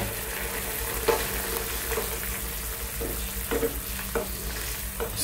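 Coconut milk is being stirred into a Thai basil and sweet potato curry in a pan, giving a soft bubbling sizzle broken by several scraping strokes and clinks of a utensil, with no one speaking.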